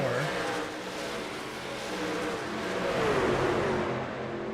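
Race trucks on the Kentucky track in a truck-series racing video game, engines droning and rising in pitch as they accelerate, a continuous layered whine that swells toward the end, heard alone.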